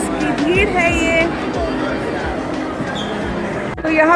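A busy Christmas crowd murmurs throughout a huge indoor shopping mall, steady chatter from many people close by and across the space, with occasional louder voices and shuffling steps.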